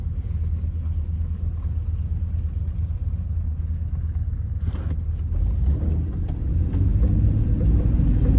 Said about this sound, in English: now there's cars that are finally showing up